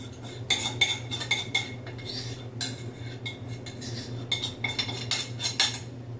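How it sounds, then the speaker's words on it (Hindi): A metal spoon clinks and scrapes around a pan while egg paratha is stirred in circles, a close run of irregular taps and rattles with no talking. "और इसको चम्मच की मदद से हम ऐसे गोल गोल जो है घुमाएंगे"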